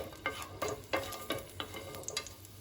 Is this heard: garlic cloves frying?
yes